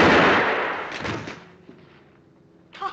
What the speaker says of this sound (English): Jesse, stop the gun.